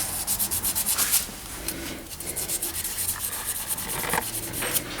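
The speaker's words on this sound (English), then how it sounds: "And our mating piece also needs to be scuffed up." The mating piece of a scalloped pen blank is scuffed up by hand with abrasive, making close, rhythmic rubbing strokes that run in quick repeated bursts.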